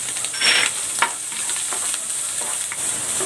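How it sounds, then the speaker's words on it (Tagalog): Garlic sautéing in a little oil, with a steady bright sizzle and a few scraping stirs of a utensil against the pan, close and alone. "Igigisa ko na itong bawang"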